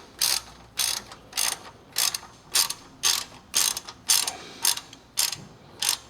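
A ratchet wrench tightens 17mm exhaust clamps on a BMW 335i, giving about eleven close, evenly spaced bursts of rapid clicking, each short stroke followed by a brief pause, with no talking.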